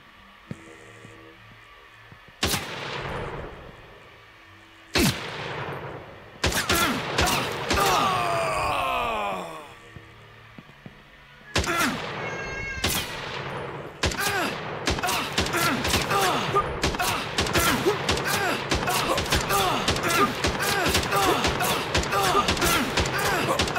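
Rifle gunfire in an Unreal Engine 4 2D side-scroller game: a few isolated loud shots with groaning enemy cries between, then a long rapid run of repeated shots near the end.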